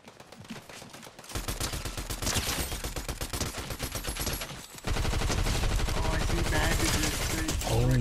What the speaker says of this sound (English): My, the sound of these guns.